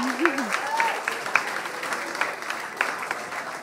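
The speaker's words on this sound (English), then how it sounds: "A huge round of applause again." Scattered audience applause at the 2015 Taite Music Prize ceremony in Auckland, moderately loud with some individual claps standing out, and brief vocal sounds near the start.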